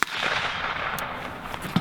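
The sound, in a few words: rifle shot with Surefire SOCOM556-RC2 suppressor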